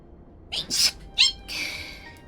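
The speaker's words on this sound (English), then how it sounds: "And then I sneezed my headphones off my head" A sharp human sneeze, two quick bursts followed by a longer breathy trailing burst, close and fairly clear over quiet background.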